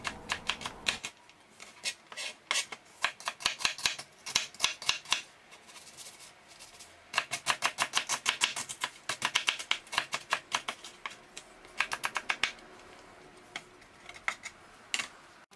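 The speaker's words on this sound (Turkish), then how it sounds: "Evet, bir tane soğanı da yemeklik doğrayalım." A knife chops an onion on a cutting board in a home kitchen for a garlicky chicken bulgur pilaf, giving many sharp, rapid taps in several uneven runs with brief pauses, close and clear with no voices.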